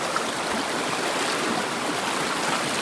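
A fast-flowing stream on a forest trek in Baduy rushes with a continuous, even hiss of water, close by and steady, with no voices.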